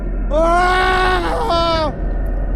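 A woman's pained scream rises and wavers for about a second and a half, loud and close, then cuts off abruptly over a low steady hum, a sound effect in a Hindi horror story.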